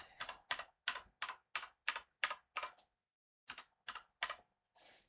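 Password typed on a keyboard: about a dozen crisp, close key taps in a steady run, a brief pause, then three more taps and a softer final press, quiet and with no talking.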